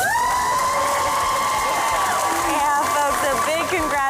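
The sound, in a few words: crowd applauding and cheering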